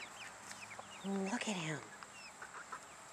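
A rooster on an off-grid homestead clucks and calls in short bursts, with one louder, longer call at mid-clip, close by over quiet outdoor background, while a person speaks briefly.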